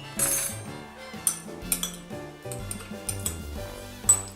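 Tomato salad being tossed in a bowl, utensils clinking and scraping against the dish in irregular bursts, with soft wet squishing between the clinks, fairly close and unaccompanied by talk.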